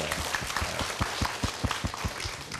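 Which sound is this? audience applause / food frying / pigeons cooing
audience applause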